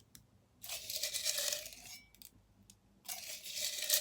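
Folded paper slips shaken and shuffled inside a hat in bursts of close, crisp rustling and papery clatter, with a quiet pause between two shakes.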